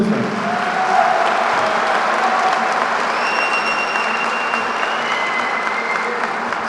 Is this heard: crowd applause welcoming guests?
yes